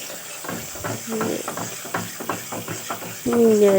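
Scrambled egg stirred in a wok makes repeated scraping strokes over a steady sizzle, and a voice speaks briefly in between.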